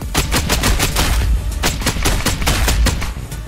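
M1A sniper rifle firing in a shooter video game, a loud, fast string of sharp close-range shots in quick succession with no talking.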